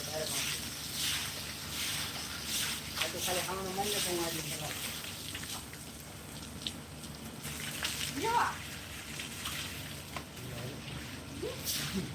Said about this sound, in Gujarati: પાણીની લાઈન તૂટી ગઈ